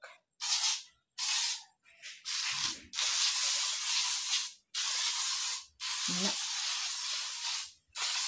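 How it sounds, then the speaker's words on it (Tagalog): An aerosol insecticide is sprayed against mosquitoes in a room in a series of about eight close, loud hissing bursts of varying length separated by short pauses, with a brief murmur of voice between two of the bursts. "Mangispray ta ani sa lamok"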